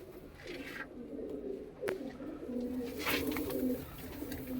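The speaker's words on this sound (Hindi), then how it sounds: "बगली रंगा तैयार कबूतर उड़ने वाला" Pigeons coo in repeated low rolling calls, steady and fairly close, at a Punjabi Malwai pigeon sale; a bright sharp chirp sounds briefly once, with faint background noise throughout.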